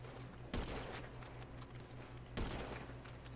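Gunfire from a sniper-versus-runners mini-game in a video game: two sharp, loud shots about two seconds apart over a steady low in-game background hum.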